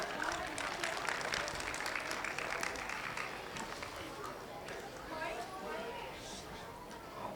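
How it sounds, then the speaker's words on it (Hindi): An audience at a Christmas celebration applauds the morning choir, a busy spread of clapping mixed with crowd chatter and voices, fairly steady and gradually easing off. "एक बार ज़ोरदार तालियां"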